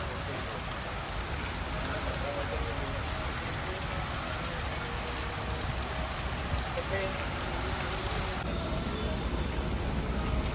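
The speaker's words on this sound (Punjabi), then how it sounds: "ਮੀਂਹ ਤਾਂ ਜਮਾ ਨਹੀਂ ਹਟਣ ਦਾ ਨਾਂ ਲੈ ਰਿਹਾ" Dense, steady rain pours down, a constant hiss and patter on surfaces, with a faint voice barely audible beneath it, on a bicycle trip to the Golden Temple.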